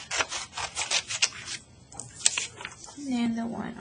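A paper sheet being trimmed for a notebook, several close rasping cutting strokes in quick succession, followed by a voice speaking near the end.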